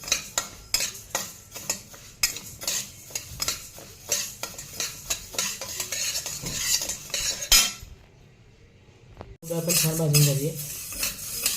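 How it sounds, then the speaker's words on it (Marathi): Moong dal being dry roasted in a pan for bhajani chakli flour, with a steady run of close spoon scrapes and rattling grains, a brief quiet gap, then renewed stirring with a low hum. "आता मूग डाळ भाजून घेते"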